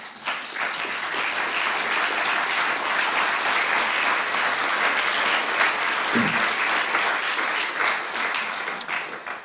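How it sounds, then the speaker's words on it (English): A room of people applauding a guest at a peace-education talk, sustained and even clapping from many hands that continues throughout without letup. "give us a nice round of applause for Jim Lichtman"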